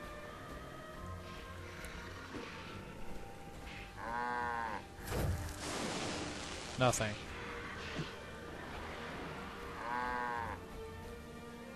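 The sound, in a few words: cows in the video game Guild Wars 2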